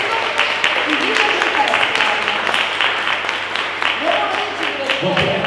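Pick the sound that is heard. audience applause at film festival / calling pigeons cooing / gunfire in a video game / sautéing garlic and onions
audience applause at film festival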